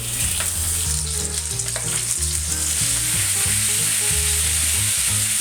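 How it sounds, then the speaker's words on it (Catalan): Steady, loud sizzling of chicken frying in hot olive oil in a casserole, continuous crackle throughout with a low rhythmic tone underneath. "quan l'oli sigui ben calent posem a fregir el pollastre"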